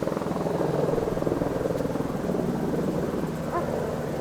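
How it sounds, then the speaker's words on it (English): Helicopters circle over a wildfire near a village, dropping water, their steady rotor drone a continuous rumbling whir at moderate distance with no talk. "Helicopters around it, giving water."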